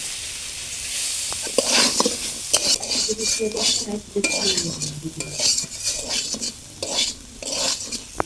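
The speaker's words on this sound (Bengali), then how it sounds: "আলু কচু একসঙ্গে সুন্দর করে ভেজে নিয়েছি" Potatoes and taro frying together in a pan for a Bengali vegetarian soybean curry, with a steady loud sizzle under repeated scraping and clinking of a metal spatula stirring against the pan.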